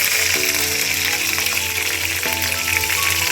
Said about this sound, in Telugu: 4 ఎండుమిర్చి, నాలుగు పచ్చిమిర్చి చూడండి తుంచుకుని వేస్తున్నాను.